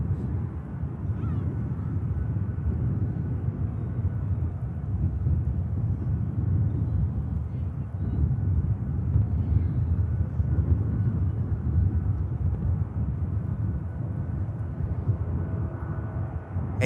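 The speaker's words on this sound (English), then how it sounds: "Aircraft in Pegasus from Istanbul, A321neo, brand new in March last year" Pegasus Airbus A321neo, a nearly new jet from Istanbul, rumbles steadily at Manchester Airport, a continuous low roar holding even loudness throughout without voices.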